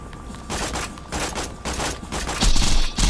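Rapid gunfire in the video game Borderlands 2, shooting at the boss Hyperius, comes as a dense stream of quick shots that grows heavier near the end, with a booming impact or two.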